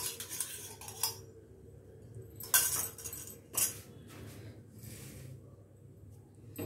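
A pan is set down on a stovetop while seasoning Navratri prasadam with ghee, giving a few sharp metallic clinks and knocks spaced over several seconds against a quiet kitchen background.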